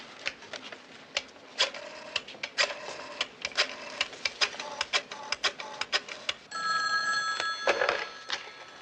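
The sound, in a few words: telephone being used to place a call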